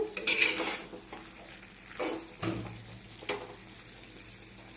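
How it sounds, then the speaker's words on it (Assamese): Vegetables with thinly sliced tomato being stirred in a pan, a spoon scraping and clinking against the metal in a few uneven strokes over a soft background sizzle, close and moderately loud. "চব্জিখিনি আকৌ লৰাই দিলোঁ"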